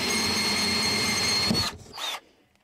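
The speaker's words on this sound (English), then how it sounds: "I gotta drill a hole in this false ceiling." A power drill bores a hole into a false ceiling panel during a home Wi-Fi access point install, whirring steadily and loudly up close for over a second before cutting out, then one short final burst.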